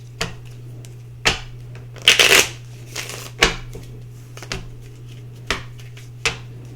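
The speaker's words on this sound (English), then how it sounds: "Let me get these cards a good shuffle." A deck of oracle cards is shuffled in several quick riffling bursts, with sharp taps and pauses between them, close up over a low steady hum.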